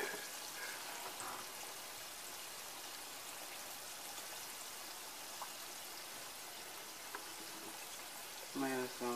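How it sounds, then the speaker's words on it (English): Shrimp fry in hot oil for a po' boy sandwich, giving a faint, steady crackling sizzle throughout, with a brief sound near the end. "I'm just frying the shrimp up right now"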